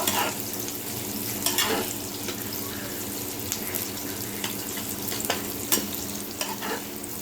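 Potatoes fry in a pan with cumin while being stirred, giving a steady low sizzle broken by repeated scraping strokes of a spatula, close and moderately loud, with no voices.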